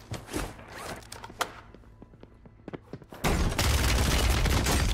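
Gunfire in the video game Warzone: scattered sharp shots and footsteps crackle for a few seconds before a sudden loud, sustained burst of fire takes over, with no speech.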